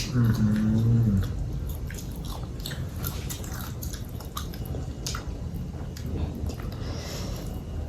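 Close, wet crunching and chewing with scattered crisp bites, steady and fairly loud, with no talking.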